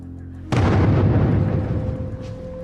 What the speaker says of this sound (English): Right, I see artillery going in now.